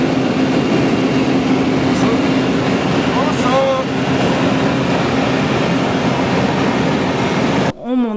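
The engine of a skydiving plane drones with a loud, steady roar and a constant high whine, heard from inside the cabin, until a sudden jolt near the end.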